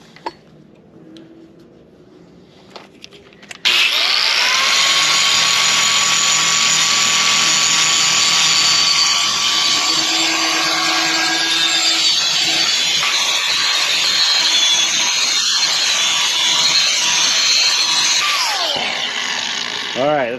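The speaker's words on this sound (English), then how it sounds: "So I'm going to grind those up now" A grinder bites into a steel trailer jack bracket, starting abruptly after a few quiet seconds and holding a loud, steady, high whine for the rest of the time, close to the microphone.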